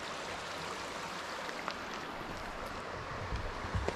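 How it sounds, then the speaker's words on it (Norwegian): A river in Tromsdalen, Norway, flows down a mountain valley in two steps, making a faint, steady rushing hiss with no one speaking. "Her kommer jo elva ned i to ledd, kan man si."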